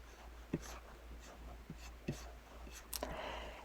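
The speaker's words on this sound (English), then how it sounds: "Going to draw a line from corner to corner." A line being drawn corner to corner on quilt fabric, faint scratchy pen strokes in a few short bursts over a low hum.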